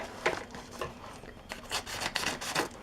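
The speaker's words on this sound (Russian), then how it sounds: "Ну что ж, откроем эту посылочку с Алиэкспресс." A parcel from AliExpress is opened up close, with short scraping, rubbing and tearing bursts of packaging coming in quick irregular strokes.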